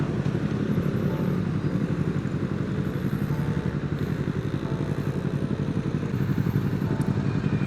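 A Kawasaki Z250 motorcycle fitted with a racing exhaust rides on an afternoon road in Indonesia, its engine giving a steady loud rumbling drone throughout.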